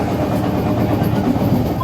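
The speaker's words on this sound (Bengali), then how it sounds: "ট্রেন পেরিয়ে গেল টিটাগড়।" A Sealdah–Ranaghat AC EMU local train running near Titagarh, giving a loud, steady rumble of wheels and carriages at speed throughout.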